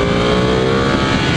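A Ducati 1199 Panigale R motorcycle engine revving high and loud after a missed gear on a freshly paved road, a sustained close-up engine roar mixed with wind rush.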